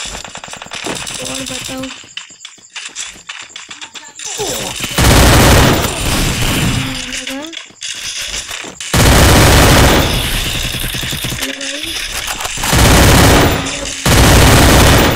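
Gunfire in the Free Fire video game: loud, rapid automatic bursts and single shots in close succession, with a brief spoken phrase between volleys.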